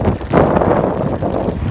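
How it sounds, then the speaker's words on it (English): Steady, strong wind buffeting the microphone high up on a shipping crane at Port Botany, a loud broadband roar that rises and falls slightly with no voices. "It's getting pretty blowy and pretty windy up here."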